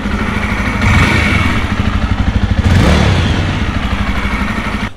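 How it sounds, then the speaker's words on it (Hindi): A Jawa motorcycle engine runs loud and close, with a revving swell around the middle before it settles back to a rough steady throb. No one speaks. "एक बार रेव करते हैं।"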